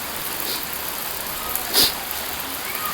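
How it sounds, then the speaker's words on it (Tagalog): Heavy rain pours steadily outside near a mall, a dense continuous hiss with a brief louder splash or bump partway through. "Naulan kasi masyado."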